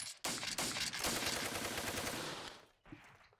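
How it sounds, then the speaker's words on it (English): A dense burst of machine gun fire from the Steel Panthers World War II strategy game, a rapid rattling stream of shots lasting a few seconds, loud and close, then a brief trailing crack. "Wow, lots of machine gun fire there."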